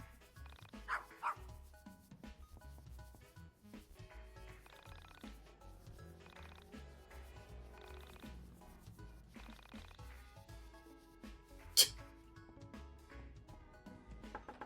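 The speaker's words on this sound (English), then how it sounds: "Dog." Dog barking in the video game YIIK, a few short yaps scattered over a quiet background of game music, fairly faint.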